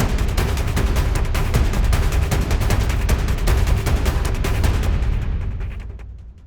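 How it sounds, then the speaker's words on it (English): Cinematic action-score drums and percussion pound together in a dense, driving rhythm of rapid, booming hits, loud and sustained throughout before fading away at the end. "Now all drums and percussion together sounds like this"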